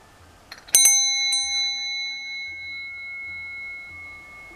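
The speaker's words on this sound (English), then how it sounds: "And I ring a bell." A hand bell is rung at a spring equinox altar: one bright strike with a quick second tap, then a clear ringing tone that fades slowly in an otherwise quiet room.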